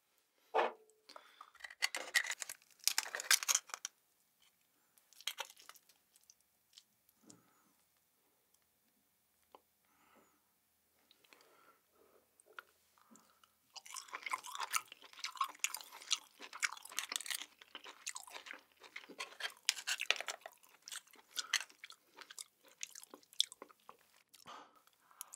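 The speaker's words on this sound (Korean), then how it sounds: "홍가리비부터 먹어볼게요" Steamed red scallop from a seafood mukbang is chewed close to the mic in wet, soft bursts with quiet pauses between, bites clustering near the start and again through the second half.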